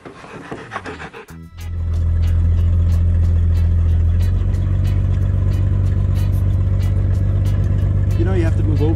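A 1958 Pontiac Pathfinder engine fires up after a brief scramble of noise, then settles into a loud, steady low rumble close by as the car pulls away, with a voice speaking briefly near the end.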